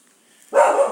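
A newly adopted dog named Hulk lets out a single short, loud bark close by, after a moment of near silence.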